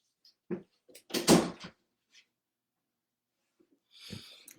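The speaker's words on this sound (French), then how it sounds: "Je vais juste fermer ma porte parce que j'entends pas l'anglais." A room door is pushed shut indoors with a single soft, fairly close thud and a little rattle, amid faint breathing and small movement noises in a quiet room.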